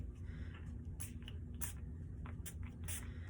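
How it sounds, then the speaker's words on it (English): Several short, quiet hissing spritzes from a mixed-media craft spray bottle, spaced irregularly over a low background hum. "So I'm going to use this spray first"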